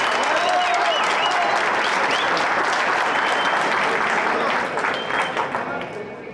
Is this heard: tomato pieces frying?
no